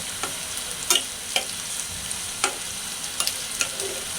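Ingredients for a fish-head curry with pumpkin and Malabar spinach fry in a pan, a soft steady sizzle punctuated by sharp clicks and scrapes of stirring, fairly faint and close.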